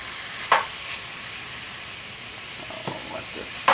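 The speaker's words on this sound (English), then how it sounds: "and sear it" Beef steak strips, salted and peppered, sear in a pan with a steady, soft hiss, broken by a few brief utensil clinks near the start and end.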